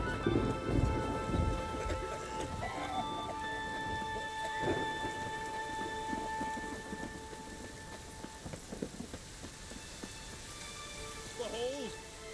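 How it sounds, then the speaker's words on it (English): Rain pours steadily through a thunderstorm in The Witcher 3: Wild Hunt, with loud thunder rumbles near the start and scattered cracks later, game voices and faint clip-clop sounds mixed into the wet ambience. "The storm, damn it."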